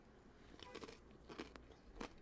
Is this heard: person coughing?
no